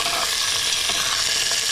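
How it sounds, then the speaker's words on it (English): Deer sausage with onions sizzling in a pan, a loud, steady, close frying hiss that runs without a break and with no voices. "I got that sizzling good in there."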